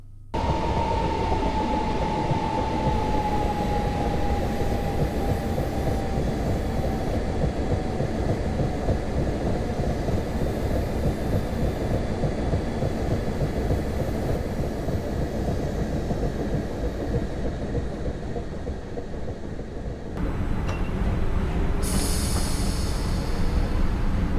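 A simulated electric commuter train pulls away from East Croydon in Train Simulator 2016, its steady loud motor and rolling drone sustained throughout, with a falling tone early on and a brief brighter burst near the end.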